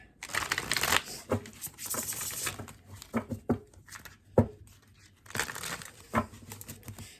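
Tarot cards being shuffled by hand, giving bursts of papery riffling and crinkling at close range, broken by short pauses, with no voices.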